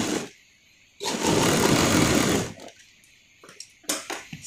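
Close, loud sewing machine stitching the lower seam of a jeans side pocket, running in one steady burst of about a second and a half before falling back to quiet fabric handling and faint clicks.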